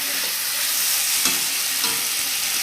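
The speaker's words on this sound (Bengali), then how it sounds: "এবার আমি ভালো করে এটা কষাবো" Spices and cumin sautéing in oil in a pan, a steady close sizzle with occasional soft scrapes of a stirring spoon, no voices.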